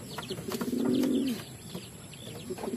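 Pet pigeons coo nearby, one low rounded coo swelling and fading in the middle, with softer chirps and faint rustling around it and no talking.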